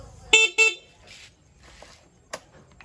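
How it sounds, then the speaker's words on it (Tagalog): Two short, sharp horn beeps from a Rusi Passion SC125 motorcycle sound in quick succession, followed by a few faint clicks and one more brief toot. "sa mismong pindutan ng ating busina"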